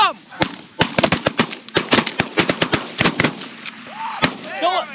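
Shotgun blasts ring out during an early-season goose hunt in Minnesota, a quick volley of many sharp shots fired close together, with goose calls and brief voices mixed in near the end.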